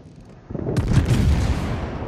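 Naval guns on the warship Wyoming firing high-explosive shells in a video game battle, heard as a heavy deep boom swelling into a sustained rumbling blast close by.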